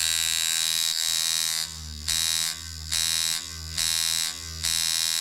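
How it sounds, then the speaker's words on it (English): A 12-volt electric motor drives a rotary mechanism with a steady high-pitched whine and buzz that pulses in a regular rhythm of load surges about once a second, close and loud, with no voices. "okay, this is a 12-volt motor."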